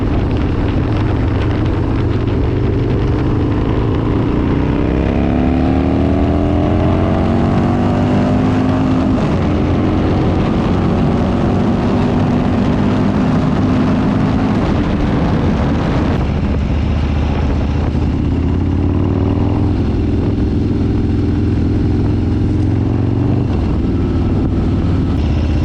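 A Harley-Davidson Fat Bob motorcycle with a swapped cam being ridden, a loud continuous engine drone rising and falling in pitch through the gears, heavy wind rush over the microphone throughout.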